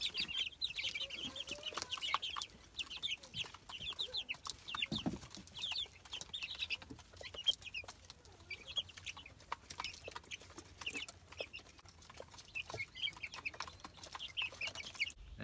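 Several chickens cluck and murmur steadily nearby, with occasional louder squawks and soft scratching in the background.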